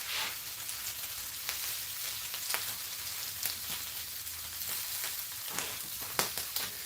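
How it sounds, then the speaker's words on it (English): Bacon pressed flat on a hot griddle sizzles steadily, a dense, even crackle with scattered pops throughout, fairly close and with no talking. "Put that bacon pressed right on there."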